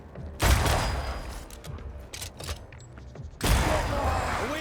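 Two powerful rifle shots from the period action game Banishers: Ghosts of New Eden, each a loud, sharp blast near the start and end with a lingering tail, separated by quieter combat clatter.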